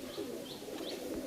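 Teddy pigeons in a loft give a short run of soft, repeated coos, about three low rolling calls, faint and close.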